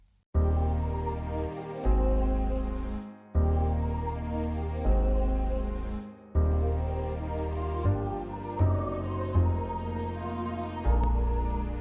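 Piano chords played with orchestral accompaniment in a steady, sustained progression of phrases, each swelling and fading, with no voices.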